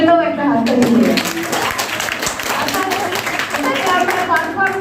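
Applause and clapping for Falakata College performers at a college gathering, a dense, steady patter of many hands lasting throughout, with voices and some talk mixed in.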